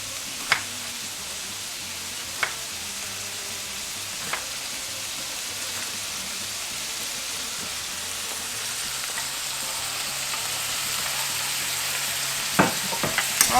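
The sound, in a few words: pork, garlic, onions and peppers stir-frying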